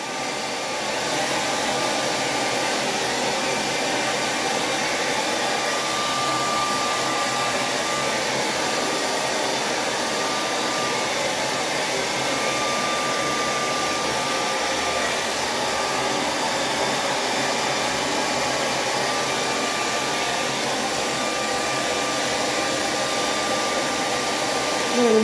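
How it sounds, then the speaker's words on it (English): A hair dryer blows continuously at close range, a loud, steady whooshing roar with a faint motor whine, drying hair after a sink wash, with no other sounds. "Hair dryer feels good."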